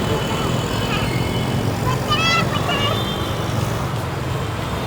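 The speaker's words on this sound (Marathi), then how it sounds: "नाही बेटा, गाड्या येत आहेत म्हटलं" Cars pass along a road, forming a steady, loud traffic rumble that continues throughout, with a brief higher tonal note partway through.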